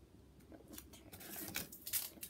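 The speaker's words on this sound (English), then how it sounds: "So we're gonna cut tiny parts" Scissors snipping tiny pieces of cardboard, a series of quiet close crisp cuts and rustles in irregular rhythm, without speech.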